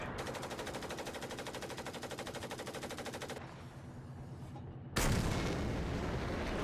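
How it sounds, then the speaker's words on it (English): Tank cannon and machine-gun fire in War Thunder's German 6.0–6.7 lineup, aimed at a Hellcat: a rapid, evenly spaced burst of loud shots stops, then a brief lull and a sudden heavy blast. "I have fired way too many rounds at this stupid Hellcat."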